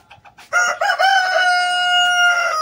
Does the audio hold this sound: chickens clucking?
yes